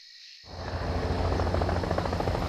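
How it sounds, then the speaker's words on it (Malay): Helicopter arriving at an outdoor nature site, its broad rotor and engine roar rising suddenly out of silence, then holding steady, close and loud. "tiba-tiba helikopter pun sampai"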